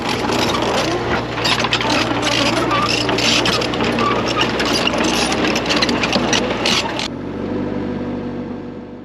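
A CAT tracked machine towing a logging trailer down a steep decline into a gully. Its heavy diesel engine drones loud and steady with mechanical rattles, then drops to a lower, quieter rumble near the end.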